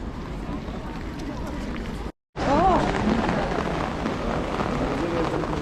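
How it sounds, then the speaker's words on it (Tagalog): Steady heavy rain hisses across the whole clip on a street in Vienna, Austria, briefly cutting out, then returning louder with voices and chatter mixed in. "Lumakas na yung ulan."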